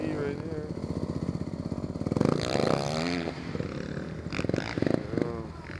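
A street-legal DRZ motorcycle engine running on a muddy track at Waialee Motorcycle Park, Oahu, Hawaii, with a droning buzz and brief revs heard under someone talking close by.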